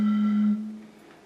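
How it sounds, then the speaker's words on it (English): A bottle of water blown across its mouth like a flute gives one steady, hollow low tone that holds for about half a second and then fades away. "if I blow into it, kind of like a flute"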